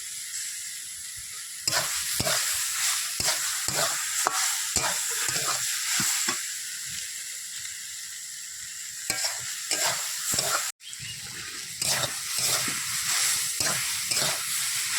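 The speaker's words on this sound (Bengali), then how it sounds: "চাল কুমড়োটা প্রায় ভাজা হয়ে গেছে" Ash gourd pieces fry in a pan while a spatula stirs them, bursts of scraping strokes in irregular rhythm over a continuous loud sizzle, close by with no talking.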